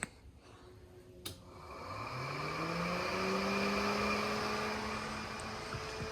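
An electric cooling fan on an LS-swapped BMW E46 switches on from a switch panel. Its whir rises steadily in pitch and settles into a constant drone after a small click, close and fairly quiet, with no talking.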